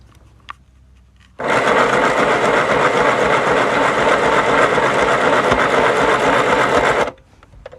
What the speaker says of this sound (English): I sewed 2 loops for D-rings to go at the tops of the triangles.